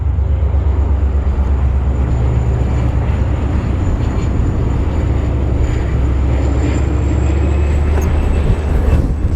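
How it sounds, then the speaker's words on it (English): A passenger train on the Royal Gorge route near Westcliffe, Colorado rumbles past steadily and loudly, with a deep continuous roar and wind noise throughout, no voices. "now that's it's a passenger nice train"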